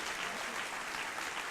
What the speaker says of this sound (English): give everyone a round of applause just for getting up here right now